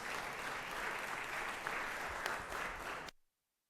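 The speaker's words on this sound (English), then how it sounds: "Give her a round of applause one more time." Round of applause in a state Senate chamber, a full burst of clapping from many hands that holds steady for about three seconds and then cuts off abruptly into silence.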